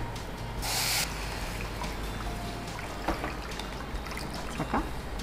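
Water is poured into a pressure cooker of khara pongal with salt in a home kitchen, a soft, steady trickling pour that starts with a brighter splash and runs quietly with faint clinks.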